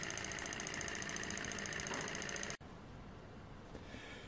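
A Banggood SH-021 coaxial swing arm beta Stirling engine runs with a steady, even mechanical whir, close and continuous, then cuts abruptly to a quieter hum partway through.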